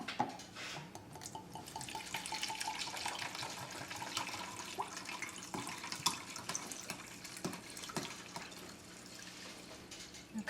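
Two cups of dry Marsala wine are poured into a pan for chicken Marsala, a faint, steady liquid pour with small drips running throughout, with no talking.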